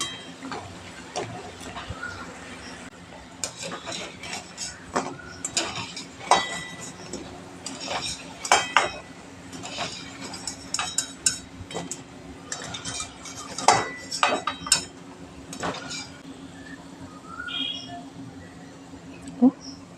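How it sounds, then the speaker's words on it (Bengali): Drumstick leaf fritters frying in a pan over medium heat, with repeated clinks and scrapes of a utensil turning them against a faint steady sizzle, while a person talks over it. "মাঝারি আঁচে উল্টে পাল্টে বেশ লাল লাল করে মুচমুচে করে ভেজে নেব।"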